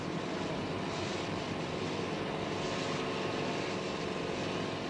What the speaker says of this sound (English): We board our choppers.